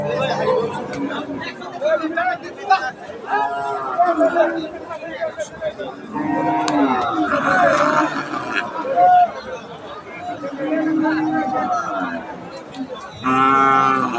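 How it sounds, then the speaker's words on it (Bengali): Dairy cows at a busy cattle market, one large cow bellowing loud drawn-out moos close by, with further lowing from the herd amid steady crowd chatter and people talking. "এই যে এইটা একটা দানো বাকৃতির একটা গাভি দানো বাকৃতির গাভিটা"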